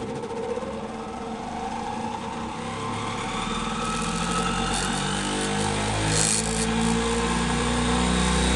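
A small motor on a fixed test mount revs up from idle, its steady hum rising in pitch and loudness over several seconds into a sustained high whine of about 4000 rpm, close and continuous with no talk.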